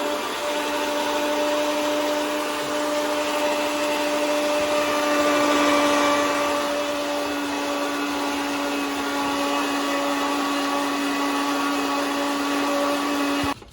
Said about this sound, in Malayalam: കുറച്ച് വെള്ളം ഇട്ട് അടിക്കുന്നുണ്ട്.